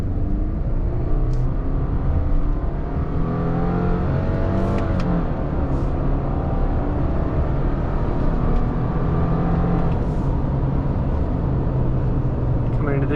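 Lifted 2021 Subaru Crosstrek Sport on off-road tires, heard from inside as a steady engine and road drone that swells under acceleration, with tire roar throughout and someone talking over it.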